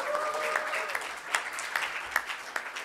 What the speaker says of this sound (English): Round of applause for Sunny.